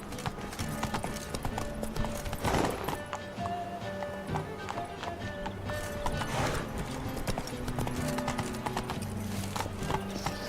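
Hooves of Roach, Geralt's horse in The Witcher 3: Wild Hunt, clip-clop at a steady gallop across the game world, with a brief whinny, in-game voices and a continuous game soundscape around them.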